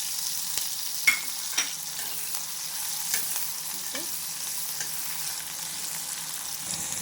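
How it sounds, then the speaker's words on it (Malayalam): Mustard seeds, chili, ginger and garlic fry in a pan as they are stirred, making a soft, steady sizzle with a few scattered pops and spatula clicks, up close and fairly quiet. "നമ്മളിത് മൂത്ത് വരുന്നിടം വരെ നമ്മളിത് ഇളക്കി യോജിപ്പിച്ചെടുക്കാം"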